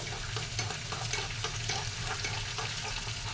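Dried chilies, urad dal, cumin and mustard seeds frying in oil for a tempering: a dense, continuous close sizzle with small crackles and faint stirring, no voices.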